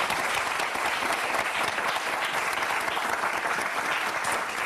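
A television studio audience breaks into applause, a dense, continuous wash of clapping held at an even level throughout.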